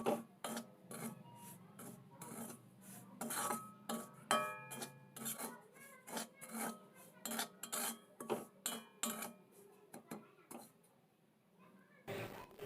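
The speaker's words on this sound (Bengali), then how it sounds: "গ্যাসের ফ্লেমটা লো রেখে সুজিটাকে হালকাভাবে ভেজে নিতে হবে" Semolina being stirred and lightly fried in oil in a pan over a low gas flame, a spoon repeatedly scraping and rasping against the metal in quick, close, irregular strokes with brief pauses.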